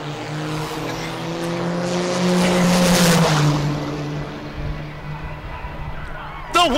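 Diesel trucks drag racing at the Oklahoma Diesel Nationals, a loud engine roar that swells and fades as trucks pass, with a commentator talking over it and a sharp burst at the end.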